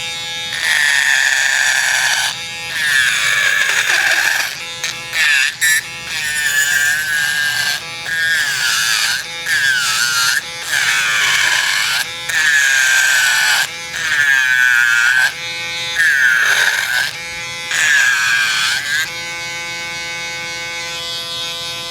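A Dremel rotary tool whines at a high, steady pitch while carving wood, cutting in and out in repeated bursts with short pauses between passes, loud and close throughout.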